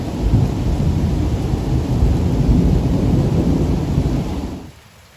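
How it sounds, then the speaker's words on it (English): A heavy summer thunderstorm outdoors in Croatia, with a loud, continuous roar of rain and deep rumbling thunder that fills almost five seconds before dropping off sharply to quiet near the end. "There's also the most beautiful thunderstorm outside."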